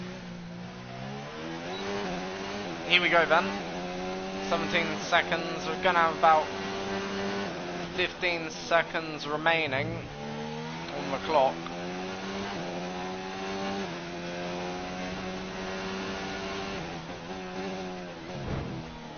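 F1 race car engines in a racing video game rev and whine, with pitch sweeping up and down through gear changes. Someone talks over them throughout.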